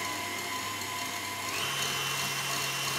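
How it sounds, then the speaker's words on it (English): An electric mixer whisks pavlova meringue at medium speed as sugar is added, giving a steady, close, droning whir with a slight shift in pitch partway through. "whisking starts again."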